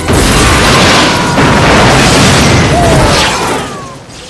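A loud, sustained explosion rumbles and roars with a dense, booming body that fades slightly toward the end, heard alone.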